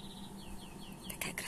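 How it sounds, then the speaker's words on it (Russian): Small birds sing outdoors in a city garden in Kharkiv among roses and fir trees, faint chirps and downward-sweeping whistles repeating softly in the background with some rustle. "Птички поют."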